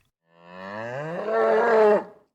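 A bull lets out a single long bellow, loud and close, rising in pitch and strength before cutting off, with nothing else around it.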